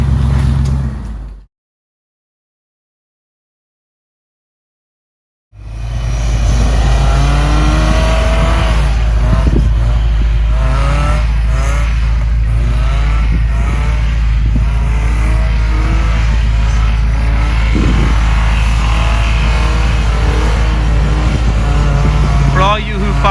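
A truck engine with a new muffler rumbles and revs steadily after a brief silence on a snowy day, with a deep continuous drone and rising and falling tones close by.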